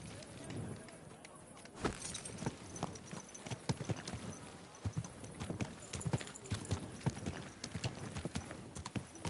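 Rapid clip-clop of horse hooves trotting on a road in the video game Kingdom Come: Deliverance 2, steady and busy throughout, with a faint voice murmuring underneath.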